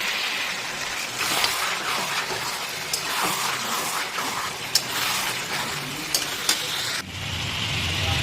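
Mutton pieces frying with onion in a pan for a Bengali mutton and potato curry, a steady broadband sizzle with occasional sharp pops and clinks, the texture changing near the end.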